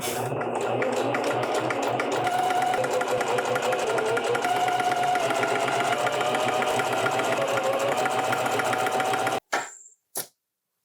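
A sewing machine stitching a t-shirt runs in a loud, steady, rapid mechanical whir for about nine seconds, then stops abruptly, followed by two brief bursts.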